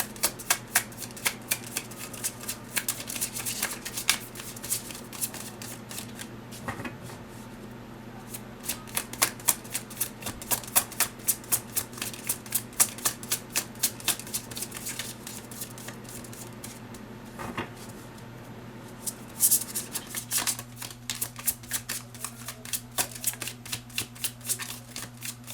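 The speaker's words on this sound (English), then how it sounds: "I'm gonna get some cards from Spellcaster Tarot to add and layer to it." Spellcaster Tarot cards being shuffled by hand, a steady run of crisp, rapid riffling clicks that continues for the whole stretch, close and fairly quiet over a low constant hum, with no talking.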